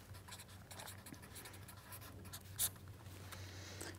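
A pen scratches across paper in short, quiet strokes as someone writes a remark by hand, set over a low steady hum with one small click partway through.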